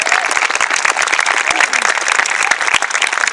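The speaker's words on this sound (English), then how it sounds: "How about a big round of applause for the pipe band?" Crowd at the Victoria Highland Games applauding a pipe band outdoors: loud, dense clapping that stays steady throughout, with faint crowd murmur underneath.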